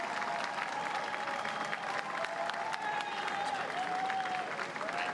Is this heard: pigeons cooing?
no